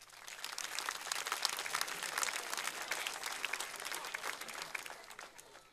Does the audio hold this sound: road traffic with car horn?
no